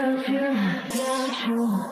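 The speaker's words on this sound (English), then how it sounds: "I filtered it and used the resonance in the filter to give a little bit of drive to the vocal" Filtered singing voice with filter resonance adding a slight driven edge, holding a wavering melodic line while a high filter sweep rises and falls behind it.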